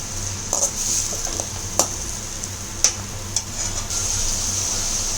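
Crushed garlic, onion and tomato sauté in oil for an egg curry, with a loud, constant sizzle and a few sharp ladle taps and scrapes against the pan.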